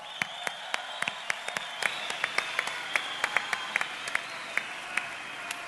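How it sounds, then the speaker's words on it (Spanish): Audience applause at a gala celebration, steady scattered clapping from a moderate crowd with sharp individual claps standing out, heard fairly close throughout. "Un aplauso para Garban, por favor."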